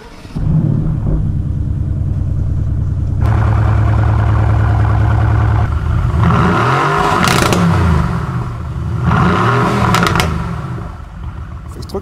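A deep Mercedes-AMG GT R engine with a three-outlet exhaust idles with a rumbling burble, then revs hard twice in loud, rising blasts before settling back down.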